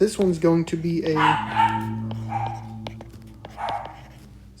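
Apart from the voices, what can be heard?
dogs barking in the background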